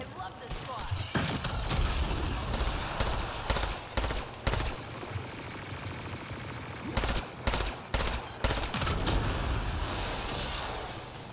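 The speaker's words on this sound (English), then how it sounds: "Oh, oh, they're shooting at me." Enemy gunfire in the sci-fi shooter Mass Effect Andromeda rattles in dense, continuous volleys with thumping impacts, rising and falling in clusters throughout, loud and close, with a voice talking over it.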